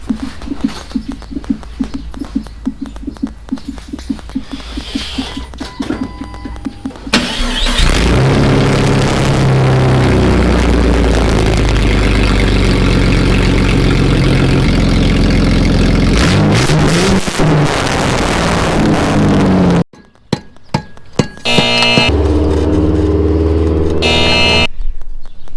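Jeep Cherokee engine with a straight pipe exhaust, loud and close, rumbling at idle and then revved hard for a long stretch with throaty roars, dropping off briefly before another burst of revving.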